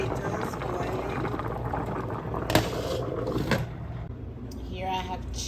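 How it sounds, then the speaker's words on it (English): Potatoes boil in a pot on a stove, a steady bubbling hiss throughout with a couple of clinks, and a voice briefly heard near the end. "So there are the potatoes boiling."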